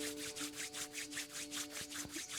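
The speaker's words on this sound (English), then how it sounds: "Rub your hands together, create a warm friction between your palms." Palms rubbing briskly together in a quiet yoga class, a soft rhythmic swishing of about a dozen quick strokes, faint and close, over a low steady hum.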